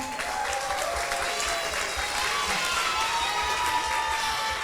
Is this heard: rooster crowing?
no